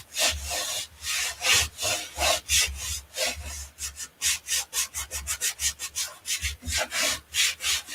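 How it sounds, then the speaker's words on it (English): A tool rubbed repeatedly over a chalk transfer to burnish it onto a wooden door round, giving steady, close scraping strokes that quicken into a fast rhythmic rasp, with no talking. "I'm going to burnish it down."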